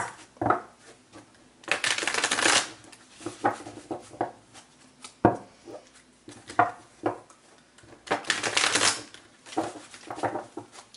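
Tarot cards are shuffled in repeated quick riffles and bursts, close and crisp, with short pauses and small taps between shuffles.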